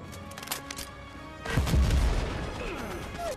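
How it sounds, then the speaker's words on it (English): Tank cannon fire in the Medal of Honor video game, a heavy boom with a rumbling crash and tail following lighter background battle noise. "Oh, it's a tank!"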